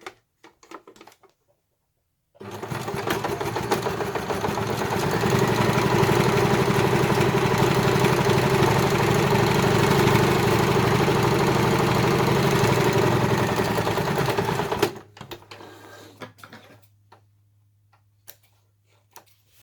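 A sewing machine stitching two straight lines on a fabric peg bag runs in one continuous steady whirring burst of rapid ticking needle strokes for about twelve seconds, with a few soft handling clicks before and after; no talking.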